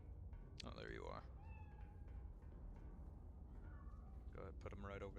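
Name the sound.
cat meowing in video game Iron Nest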